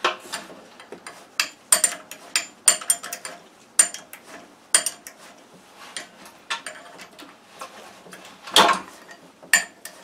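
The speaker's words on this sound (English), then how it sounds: "rotate the engine while you're snugging these up so that the belt works its way towards the outside of the shiv" Clicking and ratcheting as a Mercury Trail-Twister snowmobile engine is turned over by hand while a new stator belt is snugged into place, sharp irregular metallic ticks and clacks close by, with no voices.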